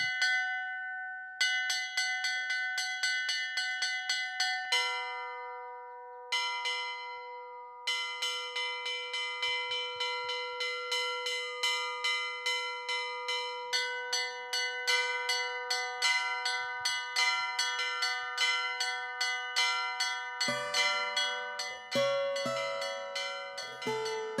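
A church bell rings out repeatedly in a steady rhythm, clear and resonant, each strike ringing on with long overlapping tones; no voices.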